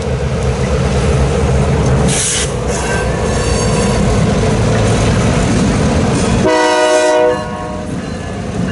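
A locomotive horn sounds at a rail fair, a loud close blast near the end over the heavy rumble and clatter of a passing train, which fills the whole clip.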